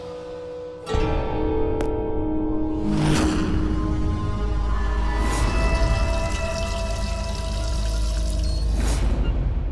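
Water running steadily from a bathroom tap left open, a continuous close gushing pour that starts abruptly after a brief quiet moment and carries on evenly throughout.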